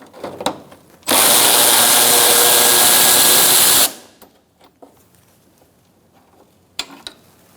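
Power tool with a 10mm socket spinning out a headlight bolt on a 2004–2009 Mazda 3, a single loud high whine lasting about three seconds, with quiet handling clicks before and after.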